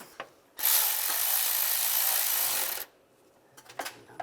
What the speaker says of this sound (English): snug those up